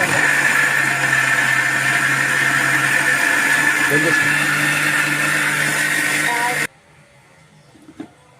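A kitchen mixer grinder whirs loudly and steadily, grinding soaked moong dal into a thick batter for crispy pesarattu dosa, then cuts off abruptly, leaving a quiet room with a faint knock.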